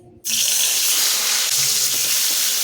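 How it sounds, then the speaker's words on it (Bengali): Salted eggplant pieces slide into hot oil and set off an abrupt, loud, steady sizzling hiss that keeps going with no talk. "এখন এই তেলে ছেড়ে দিচ্ছি বেগুন"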